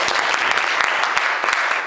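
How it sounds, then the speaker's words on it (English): Dense, brisk clapping from an audience at a congressional candidates forum, loud and close, with sharp individual claps standing out through the sustained applause. "I think that deserves a round of applause as well."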